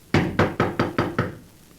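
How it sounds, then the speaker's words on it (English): A door rapped five times in a steady, even rhythm, each knock close and crisp with a short hollow decay, followed by quiet room tone. "You going to knock?"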